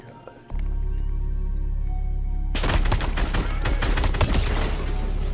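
Rapid bursts of Ranger shotgun gunfire in a video game, a dense fusillade of loud, closely spaced blasts starting partway in over a steady low game rumble, with faint voice in the background.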